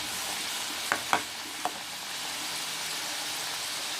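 Potato strips for French fries frying in hot oil, a steady soft sizzle with a few brief sharp clinks of stirring near the start, fairly quiet and with no talking.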